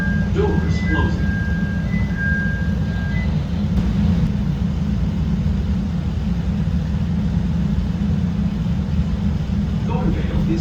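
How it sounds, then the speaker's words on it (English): A CTA Red Line subway train in Chicago, its doors closing with a chime before it departs, a steady loud rumble of the car filling the whole stretch as it moves off, with an automated announcement voice early on. "Doors closing."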